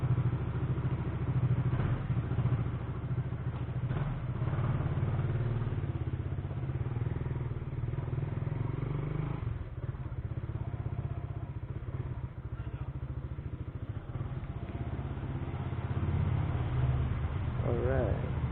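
A 2024 Raider 150 Fi motorcycle engine runs steadily throughout, a low continuous hum close by with a slight rise near the end.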